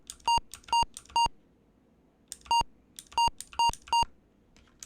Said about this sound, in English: That's the beep I remember.